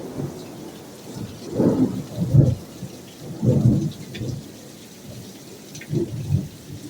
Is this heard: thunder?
yes